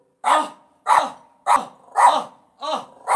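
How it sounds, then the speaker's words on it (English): A dog named Marley barks six times in an even rhythm, each bark sharp and fairly loud, a little way off and alone, with short quiet gaps between. "That's Marley down there having a bit of a bark."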